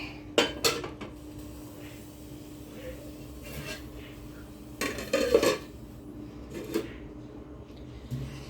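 Metal lids clatter onto cooking pots in several sharp clanks spread out over time, with quieter handling noises in between.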